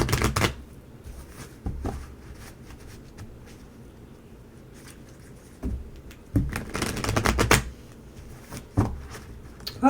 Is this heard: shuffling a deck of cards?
yes